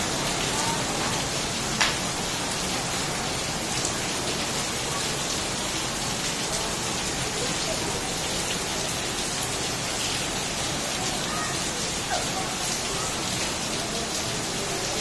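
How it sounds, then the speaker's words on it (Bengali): Steady rain pours down in Jaipur, Rajasthan in a continuous dense hiss, close and even throughout, with no pauses and only faint distant sounds beneath. "এবারে বৃষ্টিটা হচ্ছে, খুব আরাম হবে"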